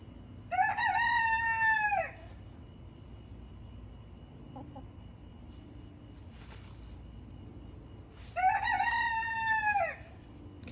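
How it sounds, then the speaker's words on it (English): A backyard rooster lets out two long cock-a-doodle-doo crows, loud and close, separated by several seconds of quiet outdoor ambience. "Now he's gonna crow."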